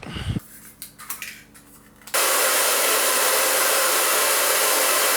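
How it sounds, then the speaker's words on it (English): A few soft handling noises, then a hair dryer switches on and blows with a loud, steady whooshing hiss. "The hairdryer doesn't do a good job"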